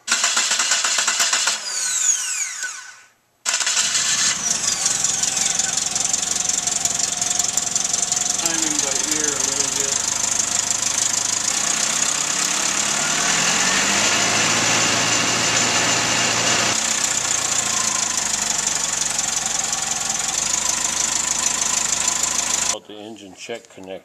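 A 1995 Suzuki Sidekick engine cranks and fires after distributor and timing work, then settles into a loud, steady idle that goes on for about twenty seconds, with a brief gap near the start.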